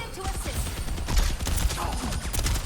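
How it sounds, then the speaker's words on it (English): Gunfire from two enemy players in a tactical shooter game, a dense run of sharp shots cracking repeatedly over a busy, steady game mix with no voices. "We have two people shooting at us."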